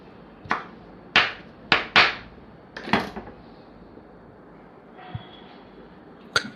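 Knife chopping coriander on a board, a handful of sharp, close thuds in an uneven rhythm, then a couple of fainter taps after a quiet stretch.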